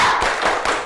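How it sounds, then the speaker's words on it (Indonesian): A classroom group of teachers performs the Indonesian 'tepuk semangat' spirit clap, a quick burst of rhythmic hand claps and taps in unison, close and fairly loud, with no talking. "Oke, yuk tepuk semangat"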